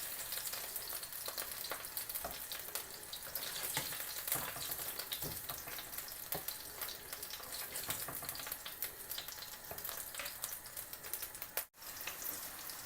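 Chicken meatballs frying in oil, giving a continuous dense crackling sizzle that holds steady throughout at moderate volume, broken by one brief dropout near the end.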